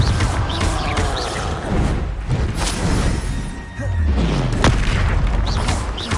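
Fiery spell explosions from the Hogwarts Legacy video game, a dense run of booming blasts and crashes with low rumbling thuds recurring throughout, loud and close, over constant game effects.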